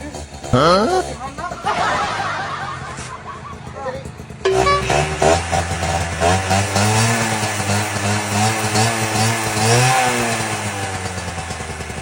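A two-stroke motorcycle engine idles and then revs loudly nearby, its buzzing pitch climbing and falling in repeated swells while people talk and laugh over it.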